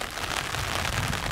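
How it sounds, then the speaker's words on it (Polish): Heavy rain beginning to pour at a carp fishing competition at the Baroniok fishery, a dense, steady hiss of drops hitting surfaces all around, loud and continuous with no pauses. "Ruszyło nam deszczem ostro."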